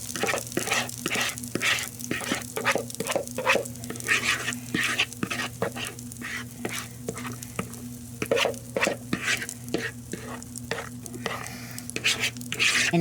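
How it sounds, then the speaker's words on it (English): Food sizzles steadily in a hot pan with a constant crackling hiss, punctuated by regular scraping clicks of stirring, close up and without talk. "Hear it sizzling."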